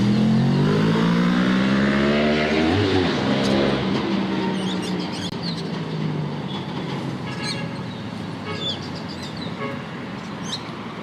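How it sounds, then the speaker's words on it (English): Road traffic at the Monrouge roundabout in Grenada on a Monday morning: a loud vehicle passes close by with a falling engine pitch, followed by a steady wash of further traffic and faint horn toots. "A smooth flow of traffic coming in and out of St. George's, coming down to Grand Anse"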